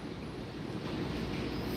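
Steady low rumble of a train at Newark's Penn Station on the Northeast Corridor, an Amtrak AEM-7 electric locomotive humming and whirring nearby, continuous with no talk.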